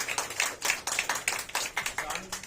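An audience claps at a celebration of JEE Main exam toppers, a short burst of close, distinct hand claps in a quick, uneven rhythm, with a voice faintly audible underneath.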